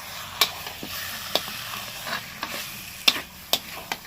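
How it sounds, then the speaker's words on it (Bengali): Potatoes and pointed gourd sautéed with spices and a little sugar in a pan, a soft steady sizzle broken by crisp spatula scrapes at irregular intervals, close and free of talk. "এবার শুরু কষানোর পালা"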